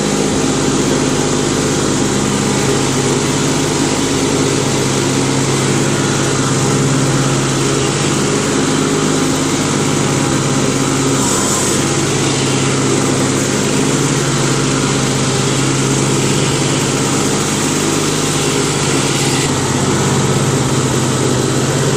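Craftsman LT1000 Murray lawn tractor with an opposed-twin engine and an oil leak, running at a steady, noisy idle-like drone, close and constant throughout.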